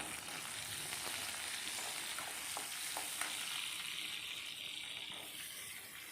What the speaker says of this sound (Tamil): இது எல்லாத்தையும் ஓரளவுக்கு நல்லா வதக்கிடுங்க